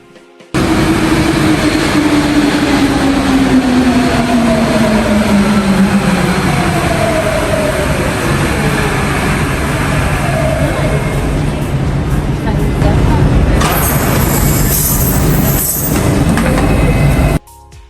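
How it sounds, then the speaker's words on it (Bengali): A metro train pulls into a station platform in France, its loud rumble and rising-then-falling wheel whine filling the air before brakes squeal and hiss as it slows to a stop, heard close and continuous. "ট্রেন চলে আসছে এখন উঠে পারবো"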